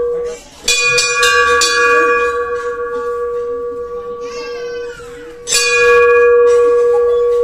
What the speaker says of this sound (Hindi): बारी बारी से घंटा बजा दो।